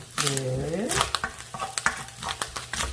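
Meat stir-fries in a pan for black-bean-sauce noodles, sizzling steadily while a spatula scrapes and taps against the pan, under a person speaking.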